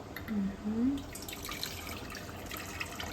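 Water from canning jars pours into a pot while assorted vegetables are preserved, a soft, quiet splash and trickle that swells briefly near the start and then settles into a faint running dribble.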